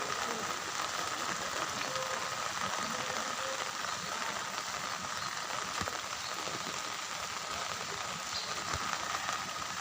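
Light drizzle falls steadily outdoors, a soft continuous patter of fine raindrops with no pauses, moderately faint and even throughout, with no voices.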